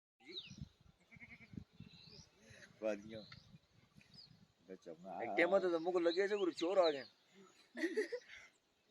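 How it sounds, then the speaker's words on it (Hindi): Goats and other livestock calling on the Ram Gali mountain pass, a run of repeated bleats rising loudly in the middle and again near the end, mixed with quieter voices and ambient sounds. "ये माल मवेशी राम गली से अब ये ऊपर की तरफ जाएंगे"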